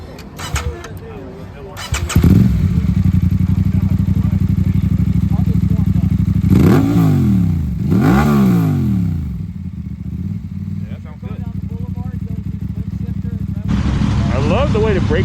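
A 2026 Aprilia Tuono Factory V4 1100 naked motorcycle with an aftermarket exhaust fires up loudly nearby, settles into a steady idle, then gets two sharp throttle blips before dropping back to idle.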